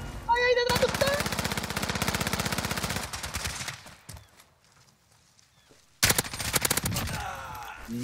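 Rapid automatic gunfire in a video game match, with a long fast burst, a quieter lull, then another loud volley, close and sharp.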